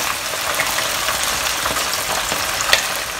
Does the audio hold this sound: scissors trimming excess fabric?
no